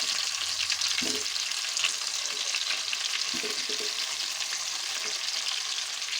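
Stuffed eggplants frying in hot oil in a pan, a loud, close, continuous sizzle with scattered soft pops and utensil taps.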